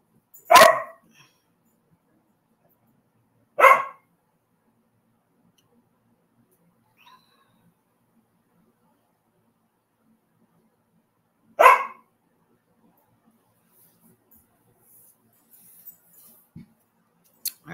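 A dog barks in sharp, isolated bursts separated by long silent gaps, three clear barks and faint sounds near the end, with no growl audible.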